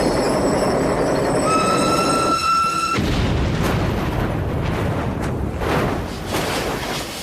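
A train's wheels squeal under braking with a high, piercing metallic screech that cuts off abruptly, followed by heavy rumbling and clanking of rail cars.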